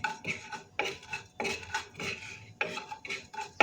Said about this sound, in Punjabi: ਜੀਰੇ ਨੂੰ ਥੋੜਾ ਭੁੰਨ ਲਵਾਂਗੇ